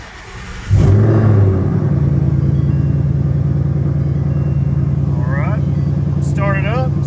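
A 2020 Ford Mustang GT with freshly changed spark plugs cranks and fires up, settling into a loud, steady, throbbing V8 idle close by, with a few brief chimes near the end.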